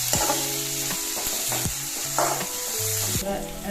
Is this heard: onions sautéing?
yes